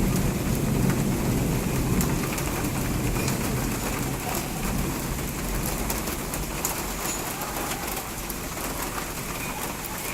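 Heavy rain pours steadily, a dense continuous patter with birds calling faintly in the background.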